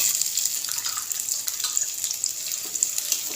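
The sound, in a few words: chopped onions sizzling in hot oil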